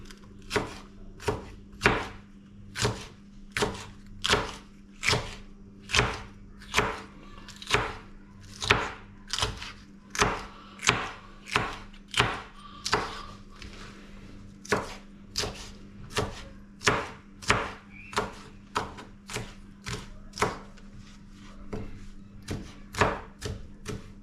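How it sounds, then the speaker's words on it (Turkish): Peppers being chopped on a cutting board for a creamy tagliatelle pasta sauce: steady, rapid knife strikes, roughly two per second, close and crisp, with no talking. "Biberlerimizi doğruyoruz dostlar."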